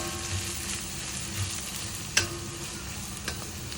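Two large chopped onions sauté in a pan for a spicy potato cutlet sandwich filling, a steady soft sizzle with occasional stirring scrapes and one sharp utensil tap, close and alone without talk.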